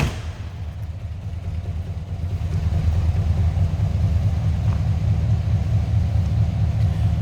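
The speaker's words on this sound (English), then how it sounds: "Nice little rumble coming out of that 350." A 1970 Chevrolet K10 pickup with a 350 V8 idles steadily, its low exhaust rumble close and constant, swelling slightly louder partway through with no voices.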